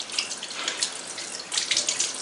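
Water from a kitchen tap runs in a steady broadband hiss with slight surging, close and moderately quiet, while salmon casserole is prepared, with no talking.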